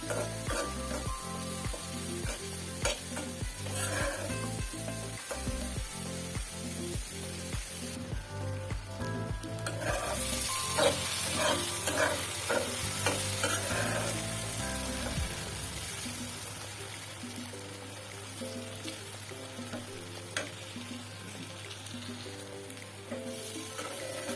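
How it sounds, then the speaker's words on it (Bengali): Dried chapa shutki fish with chili and turmeric spice is stirred and fried in a pan, a continuous sizzle with repeated scraping strokes over a low steady hum. "চাপা শুটকি মরিচ, হলুদ মরিচ মশলার সাথে ভালো করে নেড়ে চেড়ে মিশিয়ে দেবো।"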